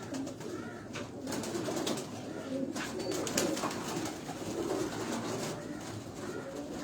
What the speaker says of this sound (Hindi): ये भी कमगर कबूतर जो है